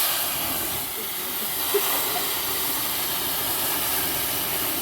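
Chana dal hitting hot spiced oil gives a steady, broad hissing sizzle that holds at an even loudness throughout, with no talking.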